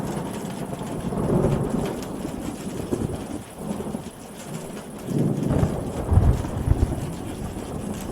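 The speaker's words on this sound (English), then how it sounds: "Spring thunderstorm." A spring thunderstorm with steady rain falling throughout and low rolling rumbles of thunder swelling and fading, including a stronger rumble near the end, with no voices.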